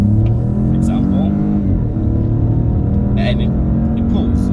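A 2021 Opel Corsa 1.2T Elegance with a turbocharged 1.2-litre engine pulls steadily while accelerating. A loud, continuous engine drone rises gradually in pitch, heard from inside the car, with someone talking over it.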